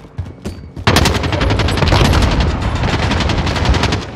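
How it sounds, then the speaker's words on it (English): Sustained rapid automatic gunfire in a Call of Duty: Modern Warfare Warzone Rebirth Resurgence trios match, a loud dense burst of shots starting after a brief quieter lead-in and continuing steadily without talk. "Taking fire over here."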